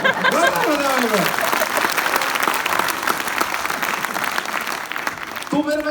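An audience bursts into loud applause with some cheering and a crowd murmur, and a voice speaks briefly at the end.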